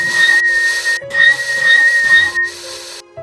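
Eerie whistling sound effect in a horror story narration, a thin, steady whistled tone with a hissing edge, repeated in three long phrases separated by short silences.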